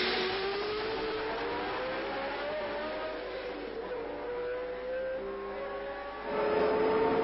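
Formula One race cars at the 1963 Monaco Grand Prix, a pack of nearly ten running wheel to wheel, give a steady loud engine drone whose pitch slowly rises and falls. The roar swells louder near the end as the cars pass close.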